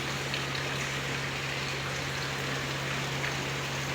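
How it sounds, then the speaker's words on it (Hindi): Light rain falls on a car on a cool evening, a soft, even hiss of fine drops with a constant low hum underneath, fairly quiet and without talking. "बारिश आ रही है हल्की हल्की"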